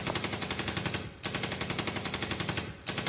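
Rapid automatic gunfire in a video game, two sustained bursts of evenly spaced shots separated by a brief pause, fairly quiet and alone with no talk.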